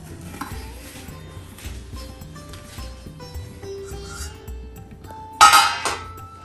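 Chicken dum biryani is served from a pot with soft scraping and clinks of a spoon against metal, ending in a sharp, louder clatter of the pot lid or utensils.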